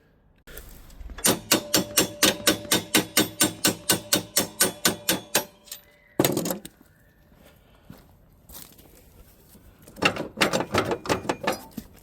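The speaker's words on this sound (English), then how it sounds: "Need a hammer." Steady, rapid hammer blows on metal ring out one after another while removing the deck from a Case Ingersoll 400 series tractor, then a pause, a single heavy thud, and another fast run of strikes near the end.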